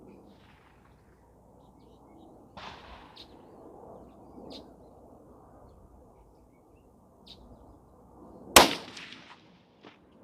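A single sharp rifle shot from a Huglu Ovis G2 bolt-action rifle chambered in .308 Winchester, fired on a 100-meter range, loud and close against quiet outdoor ambience with faint bird calls.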